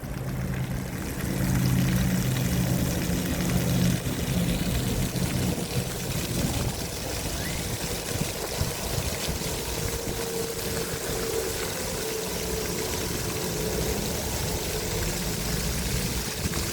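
Irving J. Jensen Fountain in a city park sprays water in a continuous rushing hiss, loud and broad, with a low mechanical hum underneath at first that fades as the spray settles.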